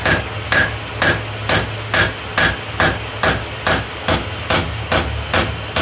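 Steady, evenly spaced hammer blows ring on metal as a seax blade bevel is forged, about two strikes per second, loud and close, with a low hum underneath.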